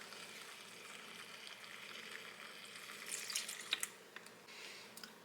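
Pasta water drains into a kitchen sink as a faint, steady rush and trickle, with a few soft splashes and drips toward the end.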